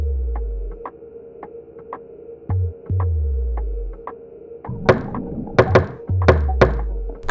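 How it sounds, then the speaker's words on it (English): A secret knock sounds on a door in the video game Galerians, a series of thuds and knocks with one timing pattern alternating late and early, set over a low throbbing game hum. "here is the knock alternating late,"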